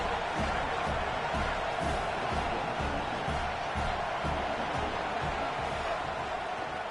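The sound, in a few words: crowd cheering in an American football video game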